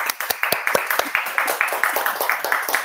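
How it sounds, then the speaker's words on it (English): An audience at a keynote lecture claps in quick, even rhythm, the close hand claps clearly separate and filling the room for a few seconds. "Let's give them a round of applause."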